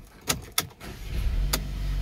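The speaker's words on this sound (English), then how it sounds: "And then you start your car." A Mercedes-Benz car engine starts up close by after a few sharp key clicks, settling into a steady low idle rumble with no one talking.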